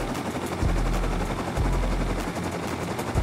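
Automated turrets in the video game Rust fire in heavy, sustained bursts, loud and close, with dense rapid gunfire and a deep rumble throughout.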